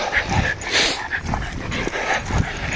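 Dogs yip and whimper in short, high bursts, several quick cries close by with no talking.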